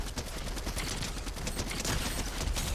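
Rapid gunfire from a top-tier weapon in an online shooter game, a dense continuous burst of shots layered over busy game noise, loud and close throughout with no talking.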